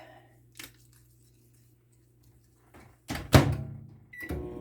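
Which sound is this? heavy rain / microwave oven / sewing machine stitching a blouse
microwave oven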